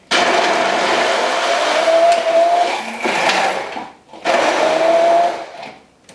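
A countertop blender whirs loudly up close as it blends raw almonds into a creamy curried almond dressing, running in two long bursts with a brief pause between, its pitch shifting as the mixture thickens.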